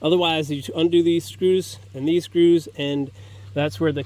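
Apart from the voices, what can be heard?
No everyday noises stand out.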